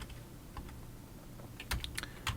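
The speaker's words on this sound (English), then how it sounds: "I'm just pressing up on the keyboard to bring back previous commands" Keys pressed on a computer keyboard, faint and close: a few scattered soft taps, then a quicker cluster of sharper clicks near the end, with no talking.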